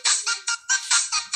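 Cellphone ringtone playing alone, a close electronic melody of about seven short bright notes in quick succession with brief gaps between them.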